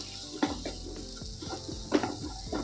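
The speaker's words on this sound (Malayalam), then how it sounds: "ഇത് നമുക്ക് നല്ലോണം വഴറ്റി എടുക്കണം." A utensil scrapes and clinks against a pan as garlic and roughly chopped onion sauté in melted butter, with a soft steady sizzle underneath and several distinct stirring knocks spaced through the moment.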